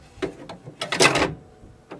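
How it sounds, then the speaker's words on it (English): Several plastic clicks and knocks sound as an ink cartridge is pushed into an HP Envy Photo 6234 printer, ending in a louder cluster of clacks as it locks, close and alone. "you hear a lock sound."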